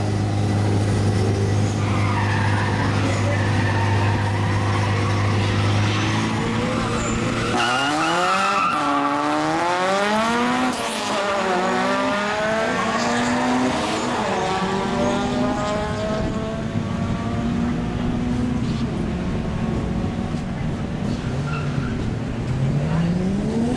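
Race cars competing in a timed race, engines revving hard with repeated sharp tire squeals and skids that rise and fall as cars pass, loud and continuous throughout.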